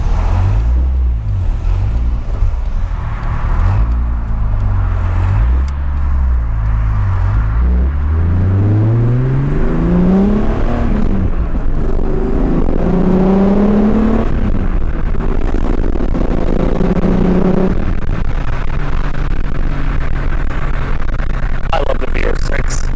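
A Volkswagen MK3 VR6 engine that has sat unused for a year idles loudly, then revs up in rising sweeps and settles back, close and continuous with no talking.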